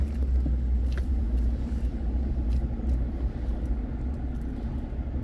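A car rumbles steadily close by as it manoeuvres and backs up in a suburban street, a continuous low engine drone with no voices over it.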